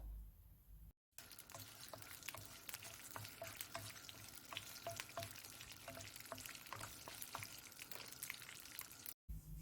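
Two tablespoons of urad dal sautéed with chopped ginger in a pan for green chutney make a steady, faint sizzle with occasional stirring scrapes and clicks throughout, no talking.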